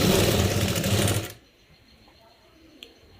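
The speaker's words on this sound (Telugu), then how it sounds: "ఈ విధంగా స్టిచ్ చేసుకోవాలి." A sewing machine stitches a fabric face mask, a fast, loud, close mechanical whirr for just over a second before stopping abruptly into near quiet.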